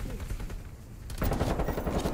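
Rapid automatic gunfire in Call of Duty Cold War multiplayer, a rattling burst that grows louder and denser in the second half, with faint talk mixed in.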